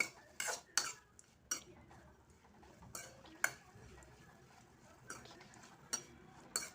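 Tomato chutney is stirred in a pan, with a spoon knocking and scraping in quiet, irregular bursts separated by short pauses.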